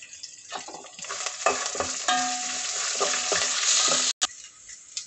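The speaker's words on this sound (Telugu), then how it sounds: "ఎండుమిర్చి, ఇది కొద్దిగా వేగనిద్దాం" Dried red chillies crackle in hot tempering oil for a mango pulihora, a close sizzle with stirring scrapes and spits that builds after a quiet start and cuts out briefly near the end.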